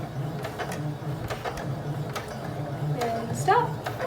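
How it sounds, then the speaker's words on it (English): A sewing machine stitches a doll's string backpack, a soft mechanical whir with ticking gear sounds close by, running under a voice giving instructions. "Do your 3 stitches and a back stitch. And sew to that first pin."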